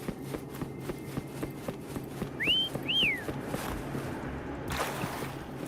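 Two short rising-and-falling whistles, clear and mid-loud, call a mount in the video game Wuthering Waves, over steady outdoor ambience with soft footstep-like ticks and a brief rushing burst near the end.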